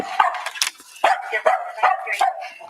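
Dogs barking and yipping close by in short repeated bursts, with some whimpering and whiny tones between the barks.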